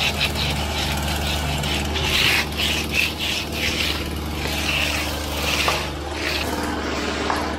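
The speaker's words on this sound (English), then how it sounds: "Using our backpack sprayer today from Tomahawk. Gas powered one to put on the release today" A gas-powered Tomahawk backpack sprayer engine runs steadily, a loud buzzing small-engine drone with a constant low hum and a brighter rasping whine, close by throughout.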